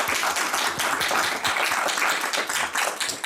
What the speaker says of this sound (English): how about a round of applause for both of our candidates?